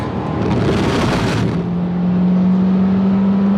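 Peugeot 208 GTI racing on track at Donington Park, engine droning loud and close with a steady tone settling into a constant pitch as the car holds speed, accompanied by wind noise.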